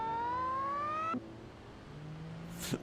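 A twin-charged car engine in the video game BeamNG Drive drones at a high, steady pitch that climbs slightly before cutting off, then settles into a low idle with a brief rev.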